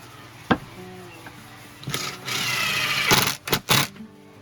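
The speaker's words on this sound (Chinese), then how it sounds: "好，就可以上螺丝了。" A power screwdriver drives screws into a solid wood panel during a camper build in a 2003 Mazda MPV, with a steady whirring buzz in a couple of bursts after an early knock.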